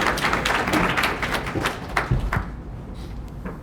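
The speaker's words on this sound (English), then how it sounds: "Yeah, you can clap." A Federalist Society student chapter audience claps after a law talk, a brief burst of clapping from a room of listeners with some thumps, fading out toward the end.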